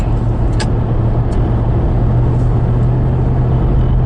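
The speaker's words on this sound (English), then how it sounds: "I'm just going to need to put the defroster on the windshield for a second" A loud, steady rush of air from a car's windshield defroster, with a constant low engine hum beneath and a couple of faint clicks.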